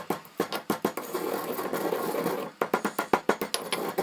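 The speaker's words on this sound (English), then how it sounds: "leave them a little coarse as you are grinding the cumin seed and the pepper" An electric grinder crushes cumin seeds and black pepper to a coarse grind, its motor whirring in a series of short, rhythmic pulses with one steady run in the middle, close and fairly loud.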